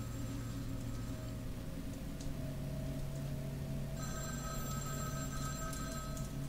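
A telephone rings in Vampire: The Masquerade - Bloodlines, a faint repeating electronic ring over steady background hum and noise.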